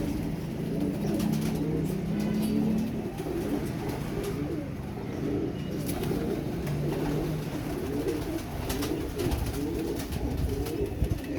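Several domestic pigeons coo steadily in a rhythmic, low murmuring chorus close by, with repeated throaty calls overlapping throughout and no talking.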